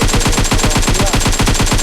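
Rapid automatic gunfire in the PUBG video game, a loud, continuous burst of evenly spaced shots with no pauses or voices.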